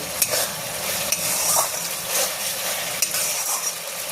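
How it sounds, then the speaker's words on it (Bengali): Raisins being stirred into a potato stuffing in a pan for stuffed aloo dum, with a continuous soft frying sizzle and repeated scraping, rustling strokes of the spoon, heard close with no talking. "কিশমিশটা দিয়ে একবার নাড়াচাড়া করে দেবো"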